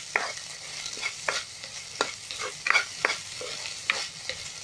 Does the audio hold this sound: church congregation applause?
no